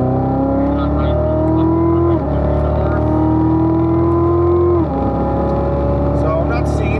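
Corvette engine accelerating hard on a race track, heard from inside the car, loud and steady, pitch climbing through each gear with shift breaks, under an instructor's voice.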